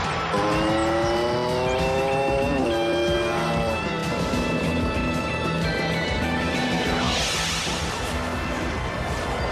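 A car with failing brakes skids, its tires squealing in long wavering tones over engine noise, loud and close, then fading into a rough scrape.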